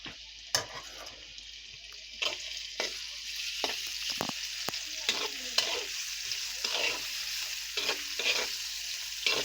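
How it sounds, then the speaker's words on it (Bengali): Onions and green chillies fry in hot oil in a wok for a fish curry. A steady close sizzle runs throughout, broken by repeated sharp scraping clicks as a spoon stirs them. "পেঁয়াজগুলো ভালো করে ভেজে নেব।"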